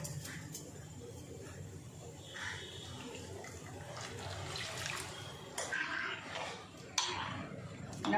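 Water poured into a Salem-style mutton kolambu mixture in a pot, a soft, steady splashing and trickling at low level with a few brief clinks near the end.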